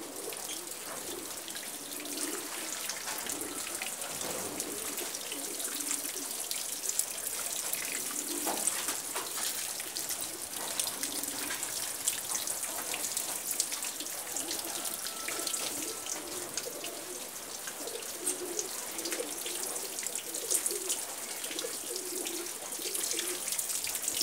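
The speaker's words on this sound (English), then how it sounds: "I'm going to add water inside the plastic containers for drip irrigation" Water added into plastic containers for drip irrigation of ginger and garlic plants: a continuous close pouring and splashing stream that runs steadily for the whole stretch, with no talking.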